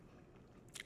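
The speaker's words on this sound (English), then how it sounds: "I can't chew with these teeth" Someone chews a bite of moist iced cake at close range, a short crunchy bite at the end standing out over quiet background noise.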